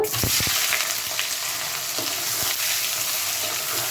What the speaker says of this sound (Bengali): এবার এর মধ্যে আমি পেঁয়াজ কুচিগুলো দিয়ে দেব।